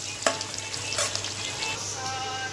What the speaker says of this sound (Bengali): পেঁয়াজ কুচি দিলাম। এটা আস্তে আস্তে নাড়তে নাড়তে লাল করে নেব।